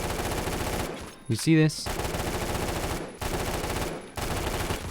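Rapid burst-fire shots from an AK rifle in the Roblox game Phantom Forces, dense loud volleys in quick clusters broken by short pauses, with a man's brief remark in between.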